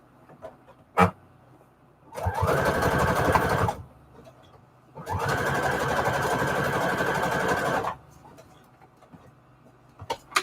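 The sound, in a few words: sewing machine sewing junk journal signatures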